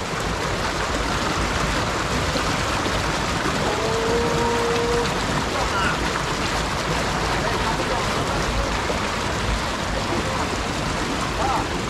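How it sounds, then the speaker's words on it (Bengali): A strong stream current near Nafakhum waterfall in Bandarban rushes with a constant broad roar, loud and unbroken, while a voice speaks faintly under it. "পানির কি স্রোত"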